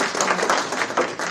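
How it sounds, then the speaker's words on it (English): A short burst of applause at a company event, scattered claps rising and falling, fairly close. "I think we should give Vincent a round of applause."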